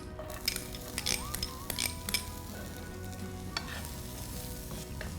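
Mustard seeds, curry leaves, a pinch of hing and onions frying in hot oil for stuffed tomato pakora, a steady sizzle broken by brief clinks and stirring taps of a utensil against the pan.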